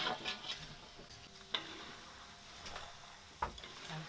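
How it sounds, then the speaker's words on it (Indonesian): Small anchovies frying in hot oil for a spicy potato dish, a quiet steady sizzle with occasional sharp clicks and stirring knocks, no talking. "Ini ikan terinya udah mulai kuning kecoklatan, siap diangkat dan ditiriskan."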